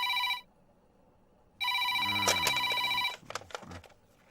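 A telephone rings in a Telugu film scene: a loud electronic ring sounds briefly, pauses, then rings again longer before cutting off into softer background sound.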